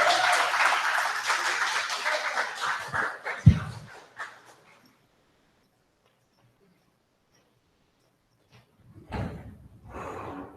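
Audience applause after a poetry performance at a Black Power themed event: dense, loud clapping that thins out and stops after about four seconds, followed by silence and a brief burst of noise near the end.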